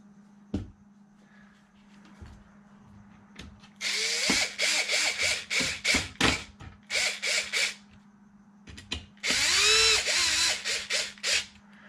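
A power drill drives bolts during an Arrma Felony RC car build, with repeated short loud whirring bursts and pauses between them. A steady low hum sits underneath and there is no talk.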